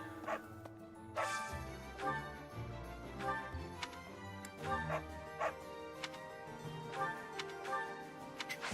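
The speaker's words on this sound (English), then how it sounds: "These goddamn dogs taking my food and not giving me anything" A game dog in Fire Emblem: Three Houses gives a few short yappy barks over looping background music, with soft game clicks between them.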